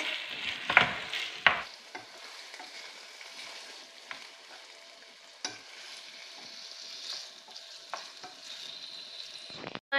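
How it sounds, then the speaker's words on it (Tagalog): Chicken and onion stirred in a pan while they fry, with scraping and clattering strokes over a steady low sizzle; the busiest strokes come early and again at the very end, and no voices are heard. "Mixing na tayo ng ating chicken at ang onion."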